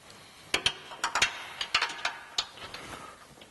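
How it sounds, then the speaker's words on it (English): A ratchet socket wrench with a 3-inch extension and a 7/8 socket clicks in quick uneven bursts as it tightens bolts on a Jeep JL aluminum rear bumper, close and crisp, with no talking. "use a 7/8 socket with a 3-inch extension"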